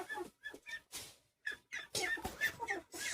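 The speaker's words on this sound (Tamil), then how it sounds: "சேவல்" A rooster and hens cluck and call in short, uneven bursts close by, with brief quiet gaps between the calls.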